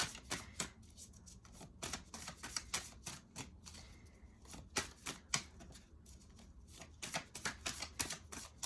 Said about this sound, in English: While I'm shuffling and waiting for this last card to come out